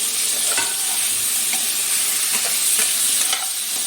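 Chopped onions and whole green chillies fry lightly in a pan for a spicy fried arbi (taro) dish, giving a steady, close sizzle with faint stirring scrapes throughout and no talking.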